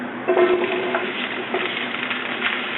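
Brussels sprouts hitting a very hot pan near smoking point, giving a steady loud sizzle and crackle with light pattering and a faint stir or scrape, no voices.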